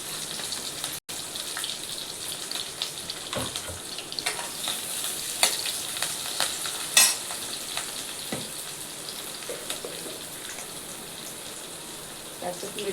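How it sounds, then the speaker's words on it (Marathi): Onion and curry leaves hit hot oil in a wok, giving a steady crackling sizzle with scattered pops and spatters, close up, with faint stirring clatter and a brief thump. "आता त्यात टाकूयात आपण कांदा आणि कढीपत्ता."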